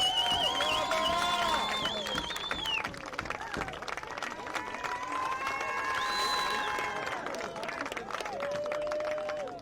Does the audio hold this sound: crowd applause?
yes